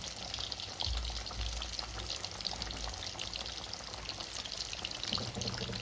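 Chicken lollipops deep-frying in hot oil give a steady, continuous sizzle and bubbling hiss throughout, loud and close with no talking.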